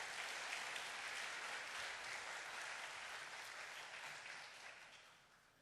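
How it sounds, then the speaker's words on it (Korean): A church congregation at a Sunday afternoon worship service applauds steadily as a deacon comes forward, a dense, even clapping that holds and then fades out toward the end. "이 시간에 우리 집사님 나오실 때 박수로 환영하겠습니다"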